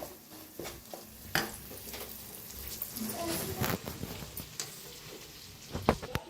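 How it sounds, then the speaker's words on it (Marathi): Chopped onion sizzles quietly in a pan for egg curry while a spoon stirs it, with scattered scraping clicks and knocks against the pan over a soft, continuous frying hiss. "आता याला चांगलं भाजून घेऊया। कांदा आहे चांगलं भाजूस"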